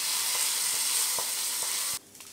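A hot tempering of curry leaves, chilies and a pinch of chili powder is poured into ripe papaya pachadi, producing an intense, close, steady sizzle for two seconds that cuts off suddenly.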